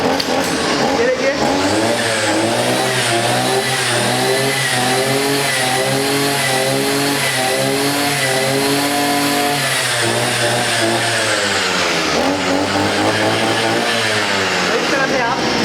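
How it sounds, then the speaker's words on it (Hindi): A brush cutter's small engine revs continuously, its pitch rising and falling in repeated surges as the throttle is squeezed harder and eased, loud and close, with a drop near the end. "आप जितनी जोर से दबाओगे उतनी स्पीड से ये ब्लेड घूमेगी"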